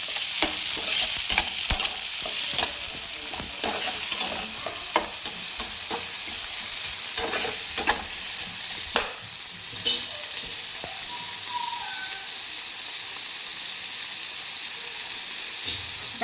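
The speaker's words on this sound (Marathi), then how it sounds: "आता आपण त्याच्यामध्ये हे टोमॅटो घालून घेऊया, आणि टोमॅटो पण आपल्याला चांगलं परतून घ्यायचं आहे।" Chopped tomatoes sauté with browned onion in a pan for a clam masala, a continuous sizzle broken by repeated stirring scrapes and light utensil taps, fading gradually toward the end.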